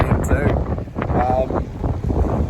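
Strong wind on a beach at Western Port buffets the microphone in steady low rumbling gusts, with a faint voice underneath.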